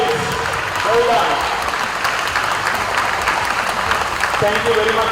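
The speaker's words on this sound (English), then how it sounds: "Round of applause, please." A karate event audience in Sri Lanka breaks into a short burst of steady, loud clapping, with voices heard over the applause.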